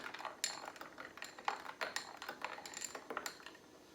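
A spoon stirring a port and tonic with lemon in a glass, quick light clinks and scrapes in an irregular rhythm, close but fairly quiet, fading toward the end with no talking.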